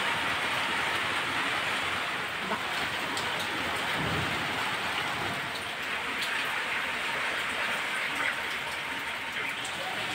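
Steady rain pours at night, a dense continuous hiss with a low rumble of thunder swelling briefly near the middle, constant and fairly loud throughout with no voices.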